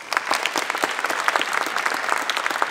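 A crowd claps steadily for a few seconds at a hypnotist show, dense, moderately loud applause with no talking over it.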